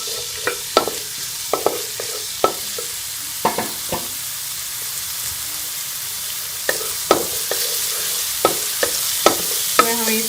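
Garlic paste sizzles in ghee in a pan while a utensil stirs and scrapes it, with a steady frying hiss broken by regular sharp clinks and scrapes of the spoon, close and clear with no talking.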